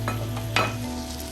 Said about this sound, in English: we're going to start to add our beef broth